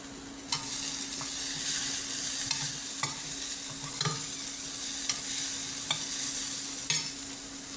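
Grated coconut thoran stir-fries in a pan under a constant sizzle, while a spatula scrapes and taps the pan in roughly regular strokes about once a second, close up with no talk.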